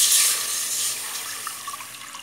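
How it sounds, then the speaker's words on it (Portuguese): Half a litre of water is poured into a cooking pot for making candied jenipapo, producing a brief splashing stream that starts strong and tapers off within a couple of seconds. "Colocarei a água"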